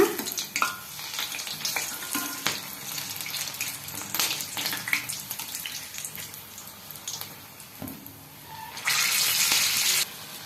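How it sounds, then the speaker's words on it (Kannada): Green chillies for street-style bun mirchi fry on one side in hot oil, giving a steady crackling sizzle with small pops and stirring clicks that swells into a louder, harsher hiss near the end. "ಪೂರ್ತಿ ಹಸಿ ಹೋಗೋವರೆಗೂ ಒಂದು ಸೈಡ್ ಬೇಯಿಸ್ಕೊಂಡು ಆಮೇಲೆ ತಿರುಗಿ ಹಾಕೋಣ"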